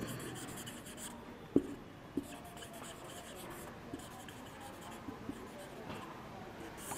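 Writing an ionic equation on a board: faint, steady scratching strokes with a few sharp taps, quiet and close, with no talking.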